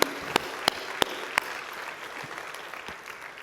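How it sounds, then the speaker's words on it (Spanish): A church congregation applauds, starting with a few sharp, separate claps that swell into steady, moderately loud clapping from a crowd, with no talking over it. "Dale un fuerte aplauso a Él."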